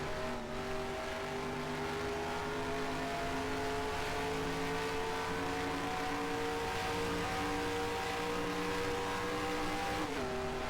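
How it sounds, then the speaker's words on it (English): Steady truck engine drone from a 1997 Craftsman Truck Series race at Texas in NASCAR Racing 2003, holding a constant pitch before a sudden shift near the end, with no talking. "I'll just shift down to third"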